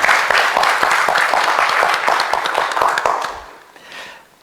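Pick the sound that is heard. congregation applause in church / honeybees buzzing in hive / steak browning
congregation applause in church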